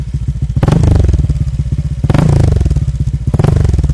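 Honda Click v3 scooter fitted with a WRC exhaust pipe revs hard in three close, loud bursts, each rising then settling back to a throbbing idle, with no talk over it.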